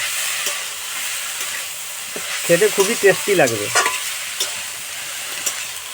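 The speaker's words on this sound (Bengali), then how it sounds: "লাউ শাকের পাতা ভাজা হচ্ছে" Bottle gourd (lau) leaves fry in a pan with a soft, steady sizzle and occasional stirring scrapes, while a voice speaks briefly partway through.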